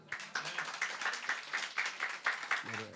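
A church congregation claps in a quick, steady rhythm, the close claps repeating evenly for several seconds before a voice begins near the end.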